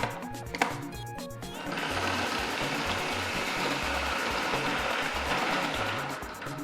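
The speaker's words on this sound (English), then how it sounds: "maybe half the food processor will be good, not too full. This will give it" A food processor half full of palm nuts whirs steadily at close range after a few clicks at the start, a loud dense grinding that holds for several seconds.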